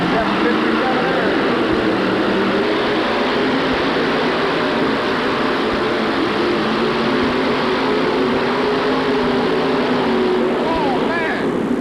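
A 7,200-pound pulling tractor's engine sits on the line at a 1988 truck and tractor pull in St. Louis, a loud, steady roar filling the air with crowd noise and voices underneath.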